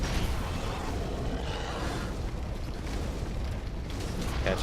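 Boar in the Dark Souls video game set alight, giving a dense, continuous roar of fire and rumbling bursts that stays loud throughout, with no clear pauses.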